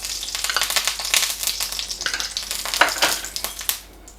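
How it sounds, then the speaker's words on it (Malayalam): Coconut oil crackling and sizzling on a hot dosa griddle, a bright, dense spitting hiss with irregular pops, loud and close, with no voices. "ഞാനിപ്പോൾ വെളിച്ചെണ്ണ ഒഴിച്ചു കൊടുത്തത് കേട്ടോ"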